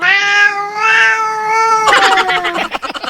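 A cat meows loudly and close by in a park, a long drawn-out cry followed by a few shorter, broken calls, with no voices over it.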